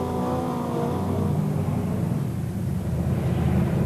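A 650-horsepower Brisca F1 stock car engine roars on an oval circuit, a loud sustained rev that rises and holds, heard continuously and fairly near without speech.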